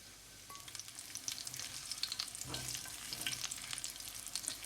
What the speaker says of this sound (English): let it fry for about 1 to 2 minutes